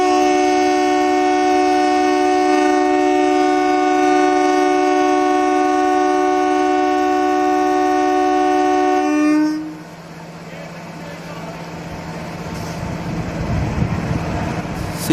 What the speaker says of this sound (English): A beautiful honk by VAM4P.